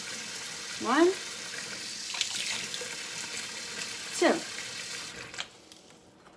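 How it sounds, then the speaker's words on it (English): Hot water, two tablespoons, runs briefly into a cup for Dalgona whipped coffee, a soft steady trickle with a couple of short spoken words over it. "2 tablespoons of hot water goes in"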